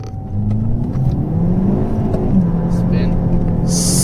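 A Kia Optima 2.0T fitted with an Injen intake pulls hard through second gear, its engine drone rising steadily and loudly from inside the cabin, with a brief hiss near the end.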